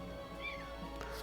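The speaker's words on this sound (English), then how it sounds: "Sorry if you can hear my cat right now." Pet cat giving a single short meow in the background, faint and brief against a steady low hum.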